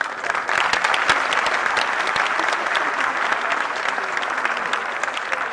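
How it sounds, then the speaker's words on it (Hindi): Sustained applause from an audience at a Teachers' Day award ceremony where the Governor honours teachers, dense steady clapping that carries on for the whole stretch with no voices over it. "तालियां बहुत कम है"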